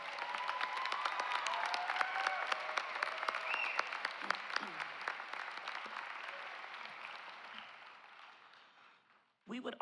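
An audience at a college commencement ceremony gives a sustained round of applause, dense steady clapping that slowly fades near the end before a brief louder burst.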